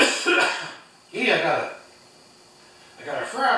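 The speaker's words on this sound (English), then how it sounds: "I got a frog stuck in my throat." A person clears their throat close by in three rough, raspy bursts separated by short pauses.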